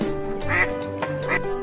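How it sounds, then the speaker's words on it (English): Ducklings in spring quack close by in a quick run of several short, nasal calls, fairly loud and clear. "You can hear ducklings quacking."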